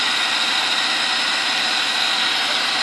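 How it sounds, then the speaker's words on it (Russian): A 2.3-litre carburetted Audi 100 estate engine idles steadily while still cold, a close, even mechanical hum with no break and no voices. "Вообще идеальная работа на этом карбюраторе."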